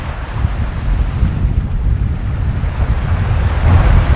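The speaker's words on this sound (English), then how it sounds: "there's a nice breeze coming off of that iceberg" A breeze blows off an iceberg, heard from a boat at sea as a loud, steady rush of wind buffeting the microphone over low surging water, with no talking.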